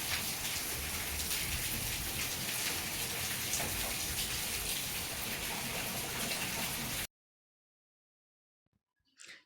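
Steady, dense rain pouring down during the monsoon in June and July, a loud continuous hiss of drops that cuts off abruptly into near silence, followed by a few faint knocks.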